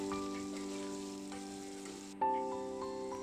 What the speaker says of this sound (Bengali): আলুতে একটু নুন আর একটু হলুদ দিয়ে ভেজে নিচ্ছি